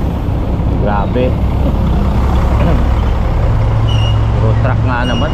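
A truck passes near a pier in Calaca, its steady low engine rumble lasting throughout while people talk over it.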